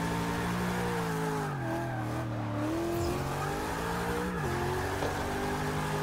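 A Nissan S15 in Forza Motorsport 6 is clutch-kicked into a drift, its engine revving loud and continuous with pitch dips and surges while tires squeal underneath.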